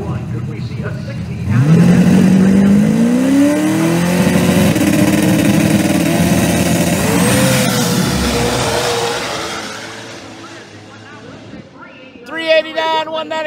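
A Northeast Outlaw Pro Mod drag car makes a full pass, the engine roaring up loudly through its gears and then fading down the track as the run ends, with commentators talking over it.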